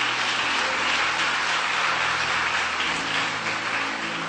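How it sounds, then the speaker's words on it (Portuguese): Congregation applauding during a Sunday church service, a dense steady wash of clapping from many hands that holds evenly and close for the whole stretch, with faint voices mixed underneath. "Você pode dar um aplauso ao Senhor nessa tarde?"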